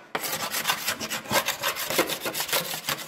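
A wooden beehive part is scraped by hand, producing repeated rough rasping strokes in a steady back-and-forth rhythm, loud and close, with no voices.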